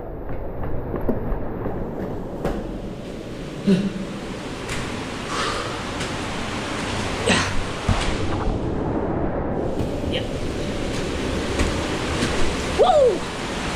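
Loud, steady roar of floodwater rushing into a house fills the whole stretch, broad and churning, with occasional thumps and faint voices nearby amid strong wind.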